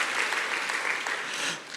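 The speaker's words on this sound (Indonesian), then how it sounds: "boleh kasih tepuk tangan dulu yang dahsyat buat Tuhan kita" A church congregation bursts into sustained applause during a sermon, a dense even wash of many hands clapping close and loud, tapering slightly at the end.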